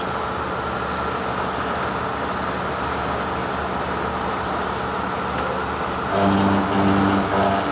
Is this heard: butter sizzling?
no